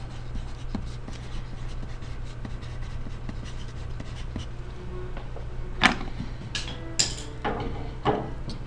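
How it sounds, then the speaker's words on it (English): Soft scratching of a pen or pencil writing a name on folded paper, a steady faint scribble over a low hum, followed by a few louder rustles and taps near the end. "on one side, it doesn't matter which side, I want you to write your name"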